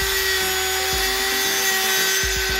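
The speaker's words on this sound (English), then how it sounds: "I then use a Dremel with a cutoff wheel and cut it off without hitting the center electrode" Dremel rotary tool with a cutoff wheel cutting the ground electrode off a spark plug, a high steady whine with irregular grinding bursts and pitch drops as the wheel bites the metal, close and continuous.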